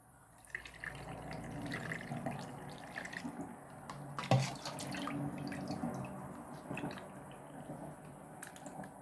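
Dissolved brine being poured from a pot into jars of pickled cucumbers, a splashing, gurgling trickle of liquid that swells and continues with a few clinks, recorded close in a kitchen.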